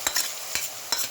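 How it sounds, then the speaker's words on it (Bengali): A spice paste of garlic, ginger and cumin hits hot oil with a soft sizzle, broken by three quick scraping stirs, all close and quiet. "তেল গরম হয়ে গেছে, বাটাটা দিয়ে দেবো।"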